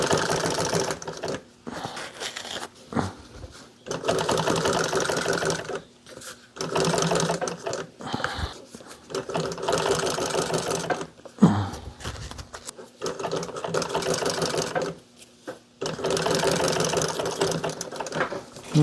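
A sewing machine stitches the sides of a fabric piece in loud, close bursts of rapid mechanical whirring, each run lasting a few seconds and separated by brief pauses while the cloth is repositioned.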